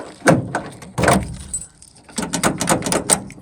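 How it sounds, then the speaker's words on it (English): A newly installed driver's side door lock on a car being tested, giving a series of close mechanical clicks, clacks and rattles in uneven bursts with brief pauses between. "One driver's side door lock installed."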